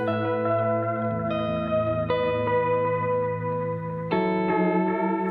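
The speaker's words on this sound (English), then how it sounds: "you can get those lovely, warbly vibrato sounds" A sine-wave modulation effect on a synth produces warbly vibrato, sustained tones shifting pitch in steps with a wavering, chorused quality, with no voices over it.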